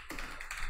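Rapid keyboard taps from a computer keyboard being typed on during a Python coding exercise, a dense run of quick clicks that fills the whole moment at moderate loudness with no voice.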